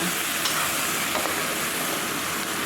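Vegetables stir-fried over high heat crackle and hiss in a steady, close sizzle with faint stirring scrapes throughout, no voices.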